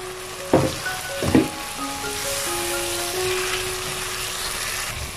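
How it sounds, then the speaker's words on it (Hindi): Shinwari-style lamb karahi with green coriander sizzles steadily in a pan over a flame. Two sharp stirring knocks come early, and faint tonal sounds run underneath. "लास्ट में इसके अंदर हम हरा धनिया शामिल कर देंगे और मज़ीद 1 मिनट के लिए इसको भून के इस तरह फ्लेम ऑफ कर देंगे।"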